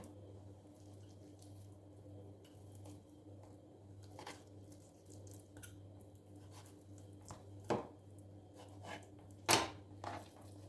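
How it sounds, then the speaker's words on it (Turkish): Knife scoring and slicing boneless chicken thigh meat for grilling, with soft, sparse squishy cuts and a couple of sharper taps against a board, quiet and close over a steady low hum. "Şöyle çizikler atıyorum inceye daha güzel pişsin diye."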